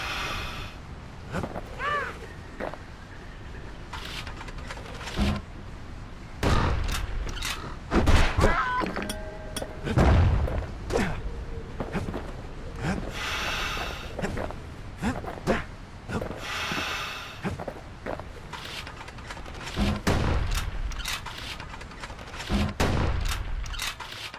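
Gunfire rings out in the action game Bastion, a steady run of sharp, punchy shots spaced irregularly over ambient game sound, some louder blasts landing close and heavy.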